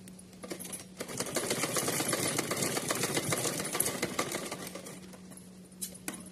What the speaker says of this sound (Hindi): चलिए तो हमने किनारी सिल के कंप्लीट कर लिया फैब्रिक को